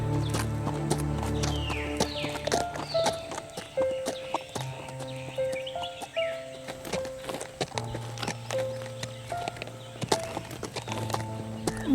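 Animated horse hooves clip-clop in a steady walking rhythm, close and clear, set against a musical score with sustained tones, no talking.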